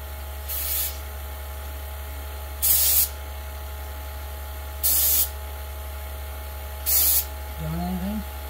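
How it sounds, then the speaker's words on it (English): Four short bursts of aerosol spray hiss at regular intervals around the vacuum sensor of a Harvest Right freeze dryer with a vacuum error, over a constant low hum, with a brief voice near the end. "And now we're going to spray around that sensor again and see what it does."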